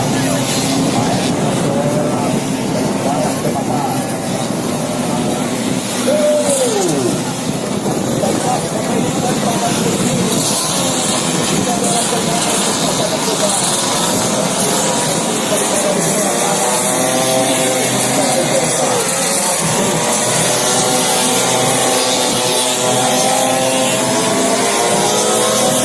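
Vespa scooters race past on a road race circuit at an air force base, engines droning and whining continuously at mid distance, with crowd noise and a commentator talking throughout.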